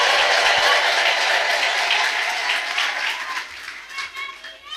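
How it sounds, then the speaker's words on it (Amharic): A church congregation breaks into loud, sustained applause and ululation for Jesus, a dense wash of clapping that slowly thins and fades toward the end. "ሲጭብጨባ እልልታ ለኢየሱስ።"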